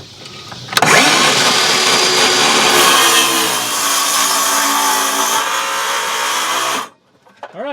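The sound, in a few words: DeWalt power saw cutting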